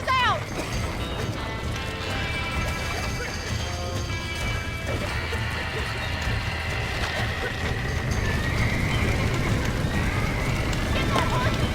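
Horses neigh and whinny in Red Dead Redemption over a busy, continuous din of hooves and crashing effects, with shouting voices mixed in throughout.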